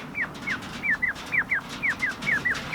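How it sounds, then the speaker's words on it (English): A female quail in an aviary-style coop calls in quick repeated pairs of short, sharp, high chirps, regular and fairly close over a steady background of outdoor noise. "Here's one of my quail. It's a female."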